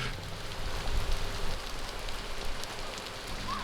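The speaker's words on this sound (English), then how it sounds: "Check it out, now it's hailing." Hail pelts down outdoors during a bikepacking trip on the Tahoe Twirl, a dense, steady rattle of close impacts that runs unbroken and fairly loud with no voices over it.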